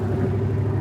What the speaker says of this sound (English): There's this loud truck.